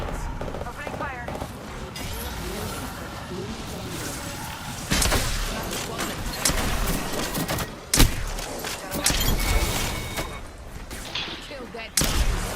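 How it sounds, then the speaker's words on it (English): Gunfire in an Xbox Series X shooter game, scattered sharp shots and thumps spread across the stretch, some louder and closer, with in-game voices in the background. "Opening fire"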